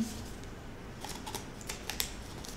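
Scissors snipping a paper heart shape at a children's Sunday school craft session, a run of small crisp cuts scattered over steady room noise.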